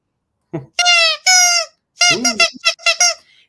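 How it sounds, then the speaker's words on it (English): A vintage 1960 rubber squeaky toy is squeezed again and again, giving a run of bright, piercing squeaks in short bursts and quick pairs, close and loud, with a brief voice at the start. "And her original squeak. Okay, squeak alert. If you've got a dog, you might want to mute me."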